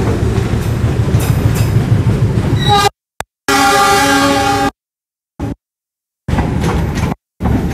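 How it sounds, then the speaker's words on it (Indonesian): A train passes close by a church holding an Easter service under a railway overpass in heavy rain, with a loud rumbling roar and a sustained horn blast, broken by abrupt gaps. "Awas Pak ya, kereta Pak ya. Kereta ya."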